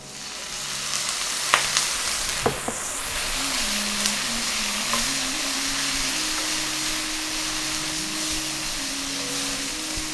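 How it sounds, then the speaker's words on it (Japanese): Onions stir-frying in a pan for a coconut-milk Kerala chicken curry, with a steady bright sizzle throughout, a few sharp clicks of stirring and a faint tonal hum from a kitchen appliance underneath. "この玉ねぎをしっかり炒める作業で味のコクを出していきます。"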